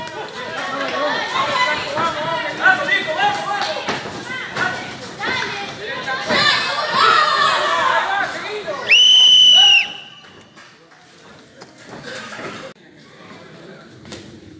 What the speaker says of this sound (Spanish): esperamos el silbato.